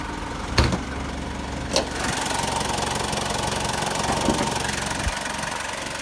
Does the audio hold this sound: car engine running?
yes